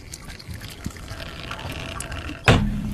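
Urine trickles onto a hat lying in a toilet in a radio studio, a faint irregular watery patter that swells into a louder gushing splash near the end, with no clear speech over it.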